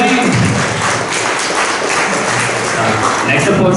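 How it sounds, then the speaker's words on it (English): Loud, close applause fills a launch event hall, a continuous rough patter of many clapping hands at a steady level, with crowd voices blended underneath. "Round of applause, guys. Keep it going."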